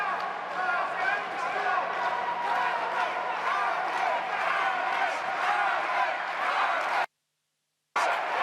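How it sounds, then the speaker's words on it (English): A boxing crowd at an arena in La Guaira, Venezuela, roars steadily in support of a fighter, a continuous, fairly loud cheering wash with a commentator talking over it. "Crowd just trying to get behind Ramirez here."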